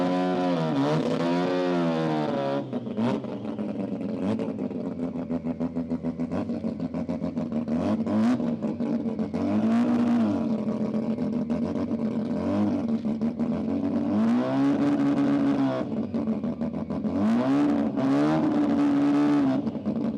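Loud race cars testing at the Garrett Brisbane Jamboree, engines roaring and revving hard through repeated throttle blips and upshifts, steady and close, with no talk.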